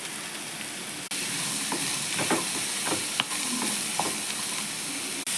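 Snake gourd sizzles and crackles steadily in a hot pan, with occasional scraping stirs and a few sharp clicks over a constant frying hiss.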